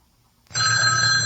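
A telephone at the KFJC radio station starts ringing suddenly, a loud, close, sustained electronic bell tone with no voices.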